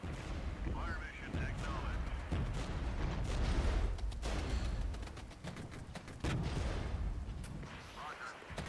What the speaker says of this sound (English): We've got a gun run coming in.